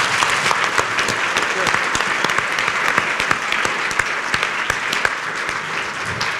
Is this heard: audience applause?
yes